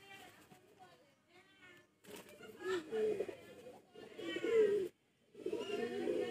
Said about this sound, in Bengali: চটিয়াল পায়রা এটা।